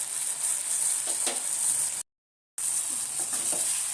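Ginger chili paste sizzles steadily in a hot pan with turmeric for lemon rice, a loud even hiss with faint stirring, cut by a brief dropout of silence midway.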